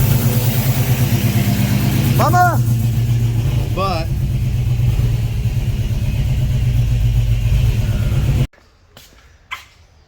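A Chevrolet Trailblazer SS truck engine runs loud and rumbling up close, idling with a couple of brief revs, then cuts off abruptly near the end; a voice calls out once over it.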